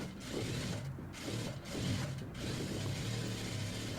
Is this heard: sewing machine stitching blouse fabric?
yes